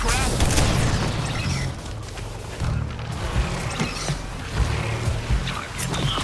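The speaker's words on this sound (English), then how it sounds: "This artillery barrage should keep you in check." Artillery barrage explodes in Suicide Squad Kill the Justice League, with repeated low booms and rumbling blasts amid clattering game noise, dense and loud, mixed with talk.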